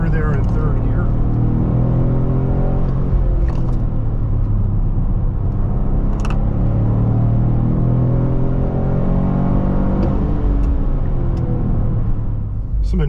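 A 2023 Toyota Corolla GR with a 1.6-liter turbocharged three-cylinder engine drives along, its steady loud engine drone and road rumble continuing throughout with a voice talking over it.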